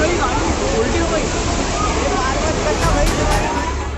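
Floodwater rushes through city streets in Indore after record-breaking rain, a steady, loud, broadband roar of churning water that stays dense and unbroken throughout, with faint crowd murmur mixed in.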